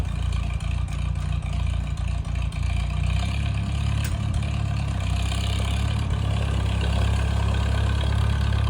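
Old Farmall tractor engine, recently tuned up after being found in a forest, running steadily with a deep, even low rumble and no sputtering. The idle rises slightly partway through and it keeps going without pause.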